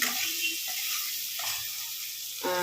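Capsicum and onion fry in oil with chopped ginger and garlic, a steady close sizzle that runs continuously and stays fairly loud, with brief stirring scrapes and no talking.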